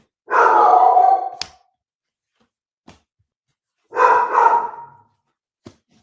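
A dog gives two separate, drawn-out bark-like growls close by, each followed by a sharp knock or bang, with quiet gaps between them.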